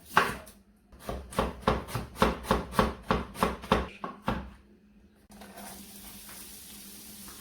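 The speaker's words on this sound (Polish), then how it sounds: "W kosteczkę naszą cebulę." Knife rapidly dicing onion into small cubes on a board, a run of about a dozen sharp, evenly spaced chops up close, then a pause and one more cut before a soft sizzle from a pan with butter rises.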